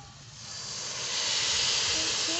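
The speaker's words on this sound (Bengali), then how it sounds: "এই দুধটা এখন আমি গাজরের মধ্যে ঢেলে দেবো।" Milk poured into hot carrots cooking in ghee for gajar halwa gives a rising, steady sizzling hiss that grows louder and holds, close to the pan.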